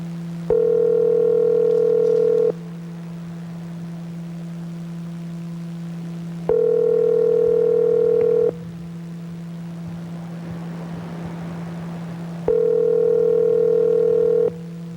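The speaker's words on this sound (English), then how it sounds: "All right, here we go, calling Grandma." Phone ringback tone heard while calling a grandmother, three steady two-second rings spaced about four seconds apart, loud and clear over a constant low hum, with no talking.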